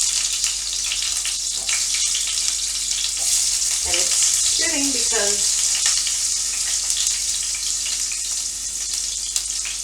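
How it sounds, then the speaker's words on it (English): Dog food fries in coconut oil, a steady bright sizzle and crackle throughout, with someone speaking briefly over it. "You can always fry it in a little coconut oil."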